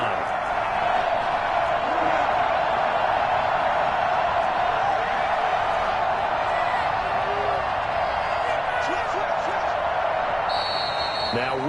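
Stadium crowd noise from a Madden football game on PS5, with the Rams on the field, rolls on as a dense, unbroken roar at an even level for the whole stretch.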